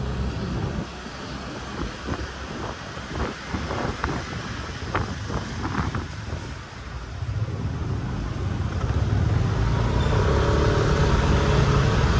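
Steady traffic on a busy, narrow residential street in Makassar, with motorbikes parked along the roadside, forms a continuous wash of passing engines and road noise. A few brief louder passes stand out, and microphone wind rumble runs throughout.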